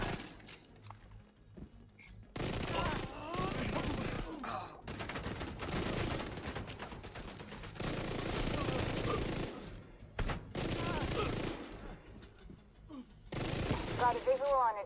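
Automatic-rifle bursts in The Division 2 aimed at body shots, several rapid fusillades separated by short pauses, loud and close, with game effects and brief reload clicks between volleys.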